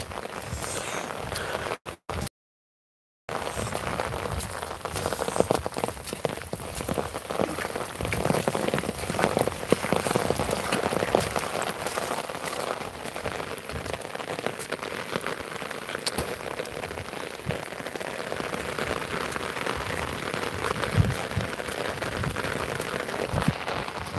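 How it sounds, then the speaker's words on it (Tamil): Heavy downpour in Tirunelveli, a continuous broad hiss of rain striking surfaces with scattered sharper drop taps, steady and fairly loud throughout after a brief dropout near the start, no voices. "இன்னைக்கு மழை விடவே விடாது இந்த மழை தீபாவளியை வர தொடரும் கணிக்கப்படுகிறது"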